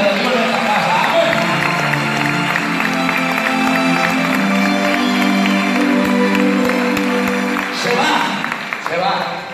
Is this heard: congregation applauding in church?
yes